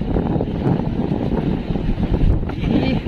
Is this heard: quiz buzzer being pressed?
no